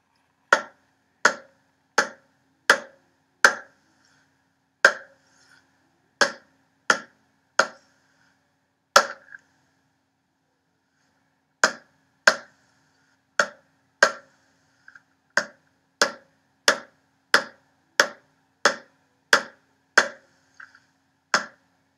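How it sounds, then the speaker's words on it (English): Crisp hand claps tapping out a sight-reading rhythm exercise, sharp isolated strikes in groups with short pauses between phrases, close and dry against silence, no talking. "now I'm going to clap the rhythm for you as you see it presented on the screen"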